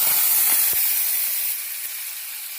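Finely chopped tomatoes hit hot oil in a pan on a gas stove, setting off a loud, steady sizzling hiss that softens slightly over a few seconds, with a couple of faint clinks.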